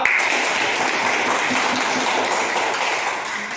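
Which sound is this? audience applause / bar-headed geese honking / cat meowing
audience applause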